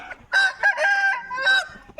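A fighting rooster crows loudly and close by, its long strained call rising and holding in a few bursts with short pauses and nobody talking.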